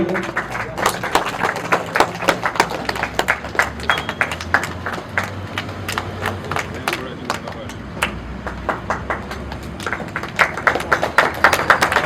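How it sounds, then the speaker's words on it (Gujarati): Applause from an audience at a patriotic village event in a gym as a medal is handed over, a dense burst of clapping that runs on for several seconds, with voices mixed in. "આપણે સૌ તાળીઓથી વધાવી લઈએ."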